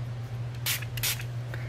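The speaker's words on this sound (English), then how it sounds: "And then spritz again." A spray bottle gives three quick spritzes of water over a Brusho watercolour painting: two close together, then a softer one a moment later, over a low steady hum.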